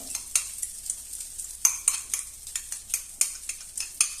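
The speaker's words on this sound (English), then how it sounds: "Put everything and simply mix it together." Utensil stirring an egg mixture into coquillettes pasta carbonara in a pan, a steady series of light scraping and clinking strokes about every third of a second, close and alone with no talk.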